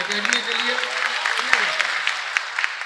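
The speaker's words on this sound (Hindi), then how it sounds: "एक बार जोरदार तालियां" An audience at an All India mushaira claps for the Urdu Academy, a lively, continuous patter of many hands under a speaking voice, with a sharp thump partway through.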